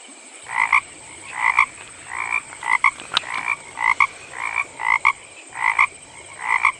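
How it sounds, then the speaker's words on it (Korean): Frogs croak at night beside flowing water, repeating in regular, evenly spaced pulses about every 0.8 seconds, moderately loud over a steady insect and water hiss. "그리고 풀벌레 소리랑 개구리 소리랑"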